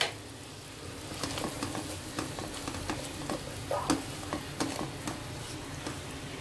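Butter chicken masala fries and sizzles in a pan, steady hiss under repeated scraping strokes of a spoon stirring it, close up with no talking.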